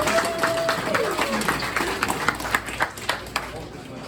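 An audience at a Lions Club fundraiser breakfast applauding a past district governor, a scattered patter of clapping that thins into separate claps toward the end, with voices mixed in.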